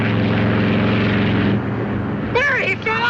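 A propeller aircraft's engines drone steadily in flight, a loud, close, continuous hum, with a voice talking over it near the end.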